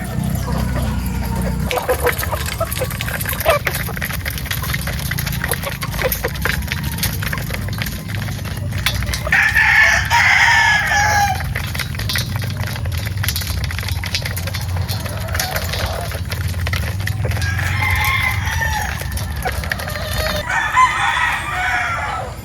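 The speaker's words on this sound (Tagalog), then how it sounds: "6 AM pa lang mga bossing, yung maaga pa lang nagpapatuka na tayo ng mga sisiw" Roosters crow and chickens cluck at a 6 AM feeding of chicks on a gamefowl farm, a steady busy flock noise with repeated crows rising over it.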